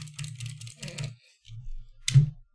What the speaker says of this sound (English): spamming the period key.